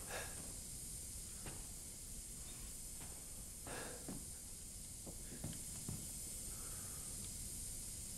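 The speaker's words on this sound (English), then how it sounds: "So it's gas I'm hearing." Gas hissing inside Resident Evil Village, a steady broadband hiss held for the whole stretch, with faint scattered clicks and knocks and no voice over it.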